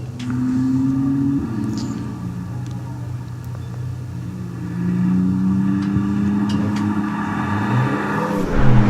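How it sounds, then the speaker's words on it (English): A Porsche race car engine is pushed hard at a hillclimb event in Australia, its sustained drone climbing in pitch through several gear pulls, heard from a moderate distance. "Mike Holland's Porsche pushing pretty hard."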